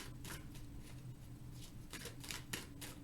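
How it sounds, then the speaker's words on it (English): Tarot cards being shuffled by hand, a run of soft riffling bursts and flicks, close and fairly quiet, with no talk over them. "One more shuffle here."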